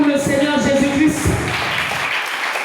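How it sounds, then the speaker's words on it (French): A church congregation breaks into applause for Jesus Christ, and the clapping swells into a broad, steady wash after a voice speaks over the first moments. "Acclamez pour le Seigneur Jésus-Christ."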